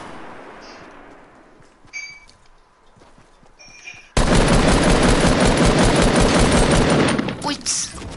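Video game shooter gunfire: a quiet stretch with a few faint clicks, then an abrupt, loud, dense burst of rapid automatic fire that runs unbroken for several seconds before trailing off.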